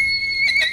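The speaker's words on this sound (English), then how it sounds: "MTN's John Amy shows us how the Forest Service members near Butte saddle up and pack a horse." A packhorse whinnies while Forest Service members near Butte, Montana saddle and pack it. The call is close and fairly loud, holds a steady tone and rises into a brighter burst near the end.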